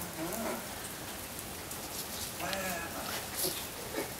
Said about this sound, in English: Yeah, that's what rain is. It's water.